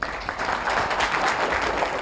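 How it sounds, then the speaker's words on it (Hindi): Applause from a group of children in a madrasa classroom, a brisk, fairly soft burst of clapping that lasts a couple of seconds with little else heard. "इनके लिए तालियां हो जाए।"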